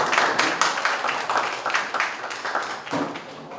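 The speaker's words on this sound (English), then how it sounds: "We have Mayor Anthony Ford. Round of applause." A small town hall audience gives a round of applause for Mayor Anthony Ford, with a close, moderate burst of scattered clapping that tapers off over a few seconds.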